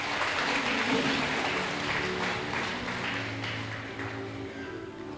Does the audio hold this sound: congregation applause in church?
yes